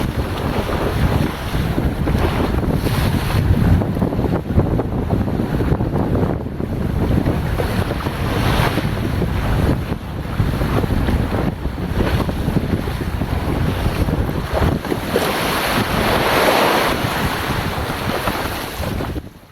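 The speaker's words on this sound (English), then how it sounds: "the waves will build up right in front of him" Open ocean waves and strong wind during stand-up paddle surfing on bumpy swells, continuous loud buffeting wind noise on the microphone with rolling, surging water throughout and no voices.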